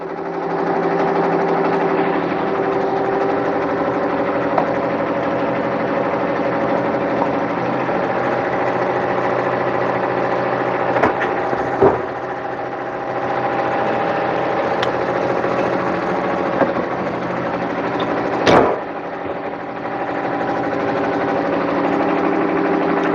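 A sewing machine stitches continuously, a steady close mechanical hum with a few brief clicks and knocks over more than twenty seconds, with no voices.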